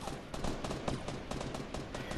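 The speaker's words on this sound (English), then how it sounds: "I'm getting shot in the back now." Dense, rapid gunfire in a shooter video game, a steady stream of close automatic shots crackling without pause across the whole stretch.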